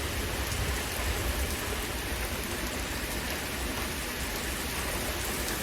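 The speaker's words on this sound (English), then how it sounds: "Really heavy rain coming down now." Heavy rain pours down during a severe summer thunderstorm with gusty wind, a dense, even hiss of falling water that holds steady throughout without voices.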